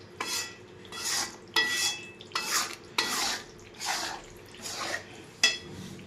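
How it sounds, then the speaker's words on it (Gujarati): A spoon scrapes and stirs roasted flour with jaggery in a pan, with about eight rhythmic, evenly spaced scraping strokes close to the microphone and no speech. "તો ગોળ ઉમેરી લીધો છે, તો ગોળ ઓગળી જાય ત્યાં સુધી હલાવવાનું।"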